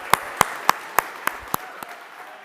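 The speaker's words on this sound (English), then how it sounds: "I think you all deserve a round of applause" A single person at an awards ceremony claps about seven distinct, evenly spaced hand claps that fade slightly, over quiet room tone.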